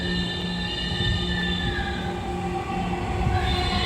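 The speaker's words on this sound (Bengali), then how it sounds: "যাওয়া শুরু করলো ট্রেন" A metro train pulling away from a station, a loud steady rumble with rising tonal whine and faint wheel squeal, close and continuous, no voices.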